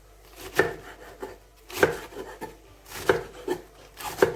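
Knife chopping lettuce on a wooden board, a series of crisp, close thuds, some strong and some lighter, in an uneven rhythm.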